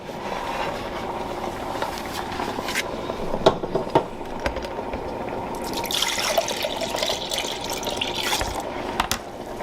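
Water trickles and splashes as it is poured into a pot during a double extraction of wild foraged turkey tail mushrooms, a steady close running-water sound with a few louder splashy bursts.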